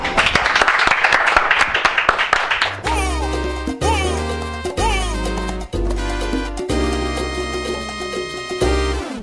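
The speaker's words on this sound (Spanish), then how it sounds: "Un aplauso." An audience claps during a live cooking show, a dense burst of applause for about three seconds that gives way to music.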